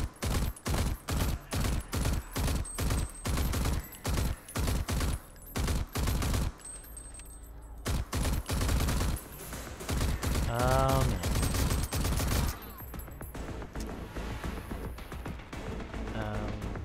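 Rapid gunfire in Rage 2, loud bursts of evenly spaced shots in a fast, steady rhythm, pausing briefly before resuming among other game sounds.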